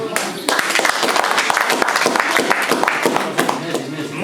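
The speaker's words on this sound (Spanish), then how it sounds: "Fuerte aplauso." Loud, close clapping at a family carnival celebration in Churín, sharp individual hand claps in an uneven burst with voices chattering alongside.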